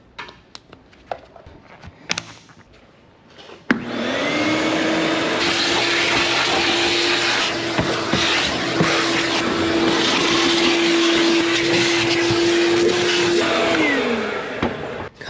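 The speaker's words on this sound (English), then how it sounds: "let's get this thing vacuumed out" A vacuum cleaner starts up after some knocks and clatter inside an electrician's work truck, then whines loudly and steadily close by for over ten seconds, pitch shifting slightly as it sucks.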